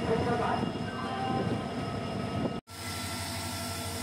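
Agartala-Deoghar Weekly Express arriving at Chapormukh Junction railway station, a steady loud rumble of rolling wagons and engine that stops abruptly, then gives way to quieter station ambience with faint voices.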